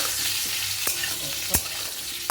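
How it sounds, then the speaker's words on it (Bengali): Potatoes and ridge gourd with poppy seed being stirred in an uncovered pan, with a constant soft sizzle broken by a few sharp spatula scrapes and taps against the metal. "এবারে ঢাকনাটা খুলে নেড়ে চেড়ে দিচ্ছি"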